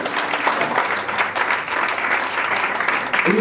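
A youth-event audience gives a round of applause, steady dense clapping throughout with no talk over it.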